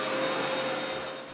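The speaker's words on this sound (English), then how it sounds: "I went out and bought a vacuum cleaner and came a little earlier, and kind of cleaned my classroom." A vacuum cleaner runs while a classroom is being cleaned, giving a steady, even whooshing drone at close range that holds for the whole moment and eases slightly at the end, with no talking.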